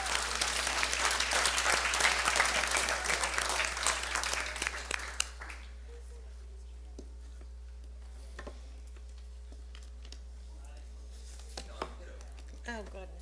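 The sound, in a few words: audience applause at board meeting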